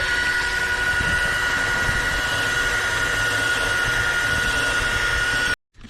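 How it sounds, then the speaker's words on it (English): A power tool with a 1500 grit polishing disc works over a 15-year-old car headlight, making a continuous loud whirring whine with a steady high tone that cuts off abruptly just before the end. "So we're gonna polish with the 1500 grit"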